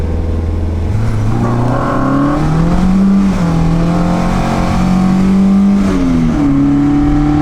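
An Alfa Romeo engine revs with strong intake induction noise, a loud, close drone stepping up through the revs in smooth shifts and holding high, with no talking.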